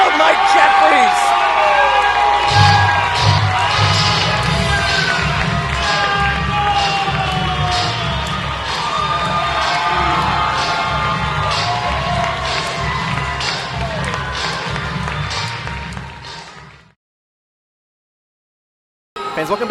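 At an independent wrestling show after a match finish, the arena crowd cheers loudly with whoops and shouts, mixed with voices, for about seventeen seconds before cutting to silence.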